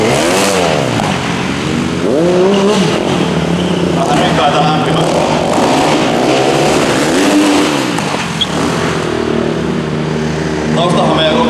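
A motor vehicle at a motorshow revs hard to warm its tires, its loud engine note rising and falling in repeated sweeps, close and continuous.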